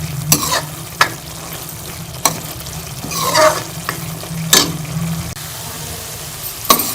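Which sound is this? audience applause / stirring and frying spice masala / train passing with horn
stirring and frying spice masala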